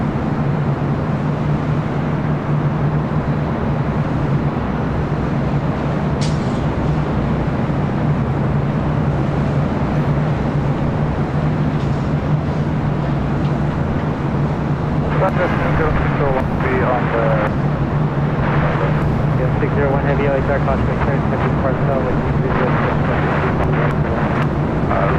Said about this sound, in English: Second A380 takeoff of the day on 25 left.